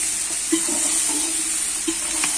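Vegetables for bograch fry over a campfire in a steady, hissing sizzle, with a couple of soft scraping taps from stirring rising briefly above the constant crackle.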